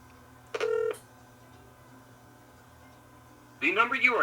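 Telephone keypad tones sound while a number is dialed back, with one short steady tone burst, a quiet gap, then a louder burst of shifting tones.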